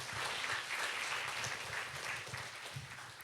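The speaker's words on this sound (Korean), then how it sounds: "앞으로 나오실 때 큰 박수로 환영해 주세요" Steady, soft applause from a church youth group congregation welcoming a new member, a continuous patter of many hands held at a low, even level without any talking over it.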